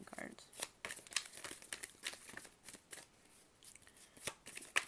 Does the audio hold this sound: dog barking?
no